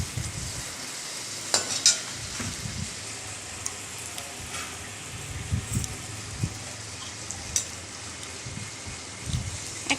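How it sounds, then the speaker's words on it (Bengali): Luchi puffed flatbreads fry in hot oil with a soft, continuous sizzle, faint and close, broken by a few brief clinks and stirring scrapes. "একেবারে ভেজে নাও।"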